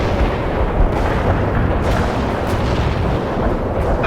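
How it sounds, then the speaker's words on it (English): A heavy artillery strike in World in Conflict, a loud, dense barrage of booming impacts and rumbling explosions rolling continuously without pause. "Heavy artillery strike fire."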